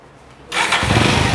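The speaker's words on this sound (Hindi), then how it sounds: "गाड़ी स्टार्ट करता हूँ" Vehicle engine with a smoking silencer cranks and catches suddenly, jumping from quiet to a loud, steady idle roar that carries on to the end.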